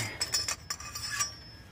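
A metal dB reducer baffle is slid back into the S&S exhaust muffler of a Royal Enfield Continental GT 650, giving a few quick, close metallic clinks and scrapes over about two seconds.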